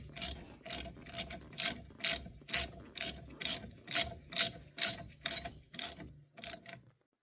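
Hand ratchet tightening a front brake caliper slide pin on a 1998 Pontiac Transport/Montana, about fourteen close, evenly spaced clicking strokes in a steady rhythm, heard alone with no talk, then stopping.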